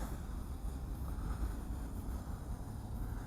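Strong wind gusts outdoors at a muddy field during a flight test of a JDRC JD-65G XBM-65 camera drone, a steady broadband roar buffeting the microphone throughout, with no voices.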